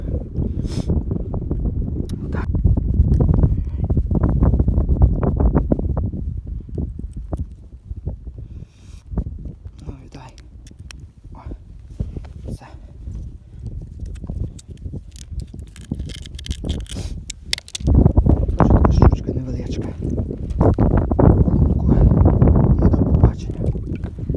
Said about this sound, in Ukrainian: також пішов у нас вітер